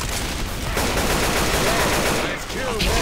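Gunfire in the zombie shooter Left 4 Dead 2, a dense, continuous barrage of shots filling the whole stretch with chaotic game noise and no clear pauses.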